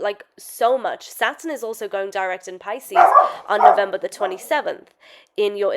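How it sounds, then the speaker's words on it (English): A pet dog barks and yips repeatedly indoors during fireworks, the sharp barks mixed in with a woman's continuous speech. "I do apologize about my dog."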